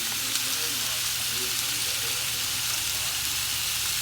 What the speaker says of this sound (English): Fry some of that up.